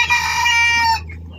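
A large farmyard rooster crows in the evening, one sustained call lasting about a second and ending abruptly, loud and close with no talk over it.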